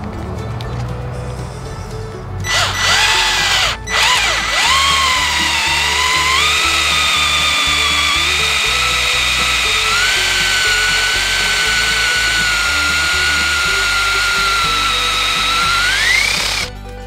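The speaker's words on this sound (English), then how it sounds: "I have a cordless drill here with a 1/2 inch paddle bit" A cordless drill fitted with a 1/2-inch paddle bit bores into the center of a wooden dowel, giving a loud, steady high whine that starts after a short spin-up, with a brief pause, and holds for about twelve seconds before winding down.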